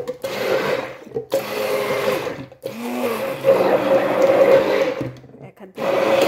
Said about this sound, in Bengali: হ্যান্ড ব্লেন্ডার দিয়ে ব্লেন্ড করে নেব প্রথমে